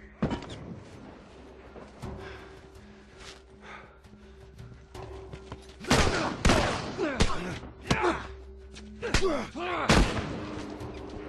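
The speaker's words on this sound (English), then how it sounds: "Ellie shot me, are you joking?" Gunfire in The Last of Us game: several sharp shots and impacts, quiet at first and then louder bursts about halfway through, over a low ambient hum, with one person talking in the background.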